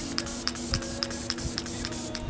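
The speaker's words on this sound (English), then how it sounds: "Last thing is setting spray, and Felix came through with the Kat Von D Lock-It setting spray." Kat Von D Lock-It setting spray pumped from a bottle in a quick series of about eight short, even hisses, close and clear over a faint steady background hum.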